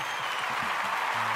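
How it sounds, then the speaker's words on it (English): Stadium applause effect played into a podcast episode, a dense steady wash of crowd clapping held at even loudness for over a second, with a low hum creeping in near the end. "Let's go stadium applause."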